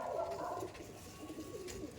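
Pigeons coo softly in a loft holding many breeds, a steady low murmur of overlapping calls that stays close and even throughout, with no voices.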